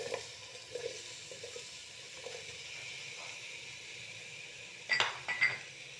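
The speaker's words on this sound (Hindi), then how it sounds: "और अब हम प्याज को फ्राई कर लेंगे।" Onions fry in oil for masala bhindi, a faint steady sizzle with a few soft utensil clinks and a brighter scrape near the end, no talking.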